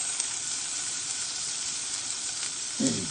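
Garlic and onion sizzling in a cooking pan, a steady broad hissing fry throughout, close and even, with a brief low knock near the end.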